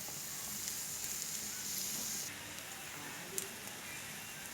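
An egg omelet with preserved radish fries in a pan, giving a steady, moderately faint sizzle throughout with a couple of small crackles.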